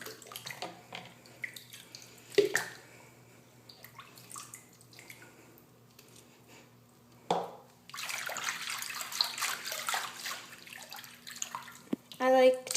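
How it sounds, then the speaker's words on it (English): A cup of lanolin water is dumped into a sink of lukewarm water for soaking a wool diaper cover, a short splashing pour after a quiet stretch, close by with faint room noise. "And then you're going to take your cup of lano water and just kind of dump it in there."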